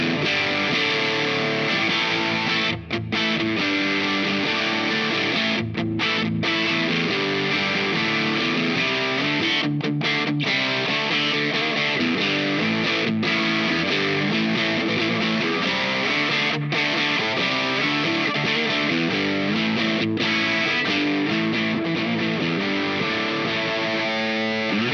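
Fender Aerodyne Telecaster on the bridge pickup, played through a Dazatronyx RAD 4-knob distortion pedal: a dense, saturated electric guitar riff runs loud and continuous throughout, with brief choppy pauses between phrases.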